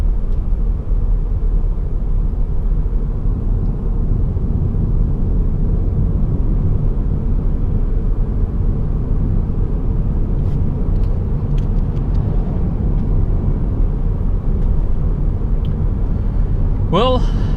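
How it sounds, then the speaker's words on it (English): A steady low cabin rumble fills the interior of a 2005 Mercedes-Benz CLK 320 W209 with a V6 engine as it cruises smoothly. The engine and road drone stay constant throughout, with a brief higher squeak at the very end. "driving the 2005 CLK 320 with the V6 engine"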